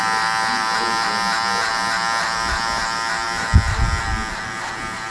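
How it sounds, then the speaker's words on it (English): An electric hair clipper hums steadily during a high fade haircut, a close, constant buzzing drone with a few soft bumps of contact midway. "So this is the clipper open that I'm running with right now."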